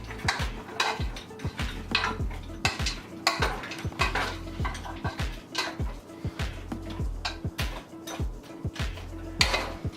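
A spoon clanks steadily against a pot while spicy curry goat is stirred, with rapid repeated metallic scrapes and taps close by, faint sizzling underneath.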